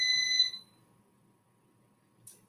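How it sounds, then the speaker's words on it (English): Electronic beeping in a home garage: one loud, shrill beep tone at the start, then silence and a faint short chirp near the end. "I know the beeping in my garage, those who have been watching my show know that beep very well."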